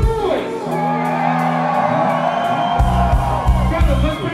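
Concert crowd at a set on the Jam Cruise, cheering, whooping and shouting in a loud, sustained roar, with bass-heavy music thumping beneath toward the end.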